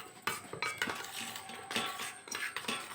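Spoon stirring licorice and other powders in a bowl for homemade skin whitening soap, quick close scraping and clinking strokes against the bowl in a steady run, no talking.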